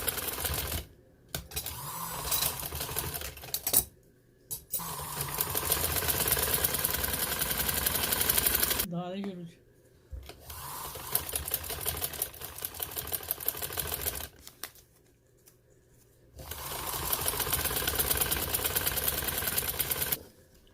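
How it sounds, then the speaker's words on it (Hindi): Sewing machine stitching a chak box trouser design, whirring in several loud bursts of a few seconds each, separated by short pauses, with no talking over it. "अब मैं इसके किनारे पे सिलाई लगानी"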